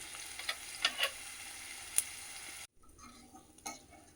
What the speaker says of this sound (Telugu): ఇట్లా ఫ్రై మొత్తం డీప్ ఫ్రై చేసుకోవాలి, మనం బజ్జీలు చేసినట్టు.